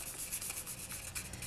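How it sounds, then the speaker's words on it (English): Polymer clay piece being sanded by hand with polishing paper, a steady soft scratchy rubbing with repeated short strokes, close and quiet, no voices. "So I'll continue sanding these,"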